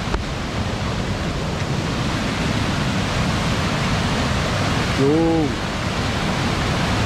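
A loud, steady roar of rushing water from Cachoeira da Porteira, a waterfall in Presidente Figueiredo, Amazonas, Brazil, fills the clip, with a brief spoken word partway through.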